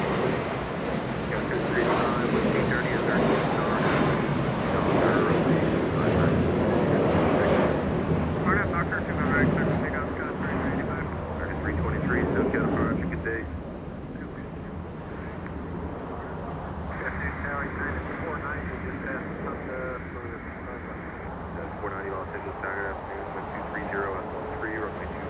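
A United Boeing 757-300 from Denver arriving at Los Angeles International Airport: a loud, sustained jet roar that swells and then eases to a steadier rumble as the airliner passes, with wind buffeting the microphone and a voice talking over it.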